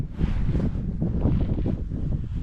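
Strong wind buffets an open campsite where someone is sleeping outdoors without a tent, giving a loud, continuous low roar with gusty surges and rumbling microphone noise throughout.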